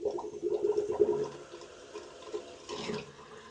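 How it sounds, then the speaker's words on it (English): Water rushes briefly and faintly from a boiler drain valve opened slowly on a residential heating system, a short splashing gush followed by a quieter trickle. "Open up boiler drain slowly."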